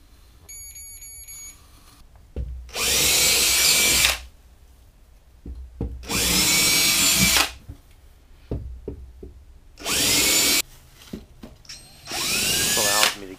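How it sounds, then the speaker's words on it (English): A power drill bores holes through a wall to apply termite foam around attic framing, running in four loud, sustained bursts of about a second and a half each, separated by quieter pauses with clicks and knocks. "when I drill the holes through the wall and apply the foam"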